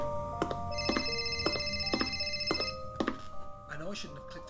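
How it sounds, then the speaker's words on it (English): A telephone rings with repeated bright electronic trills in a regular pulsing pattern, fairly close and clear. Brief background thumps follow the rings. "There's the phone. Better go and answer it."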